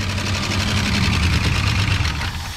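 A 1968 Ford F100 Ranger engine idles steadily right after its first start in 25 years, a loud, continuous low rumble with a fast mechanical ticking throughout, fading slightly at the end.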